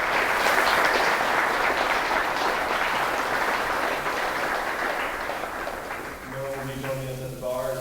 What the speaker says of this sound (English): then another big round of applause